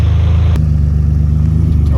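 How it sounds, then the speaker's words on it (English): A turbocharged Nissan G35 engine revs with a steady low rumble and a sharp jump in pitch partway through, loud and close, with people talking over it. "The turbo sounds fucking beautiful."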